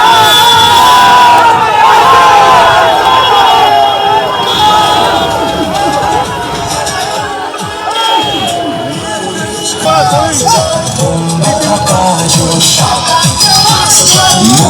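A dense, loud protest crowd surrounds Saokat Molla, chanting "thief" slogans in rhythmic shouted bursts amid a babble of voices and movement.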